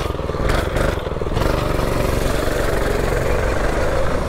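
A new Predator 224 small engine roars at full throttle during a top speed run, a loud, steady drone that climbs after a brief rough patch near the start and then holds high and constant.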